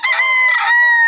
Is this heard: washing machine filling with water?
no